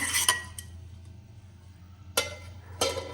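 A spoon scrapes and clinks against a bowl while semolina batter is stirred: a few sharp taps, a long quiet stretch, then two more knocks near the end.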